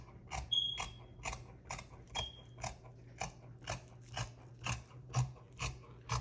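Scissors cut through sublimated bodysuit fabric in a sewing room, a regular series of about a dozen crisp rasping snips roughly every half second, close and clear with no talking.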